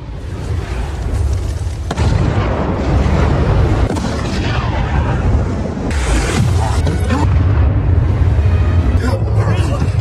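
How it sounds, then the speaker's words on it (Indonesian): A dense, rumbling roar of explosive blasts and booms, loud and continuous, with layered crashing noise like a big action scene. "Dampak ledakan bom tersebut membuat Dom dan kawan-kawan menjadi buronan"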